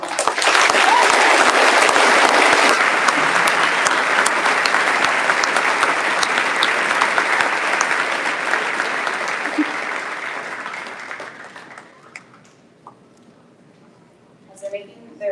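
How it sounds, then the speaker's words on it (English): A graduation ceremony audience breaks into dense, loud applause, sustained for about eleven seconds before tapering off into a quieter room with a few scattered sounds. "Let's give him a round of applause."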